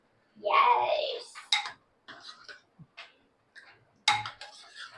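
A spoon stirs sweet potato kheer in a pot, scraping and clinking against the metal in a few short, uneven strokes; brief light taps, nearby and moderately loud, with no talking.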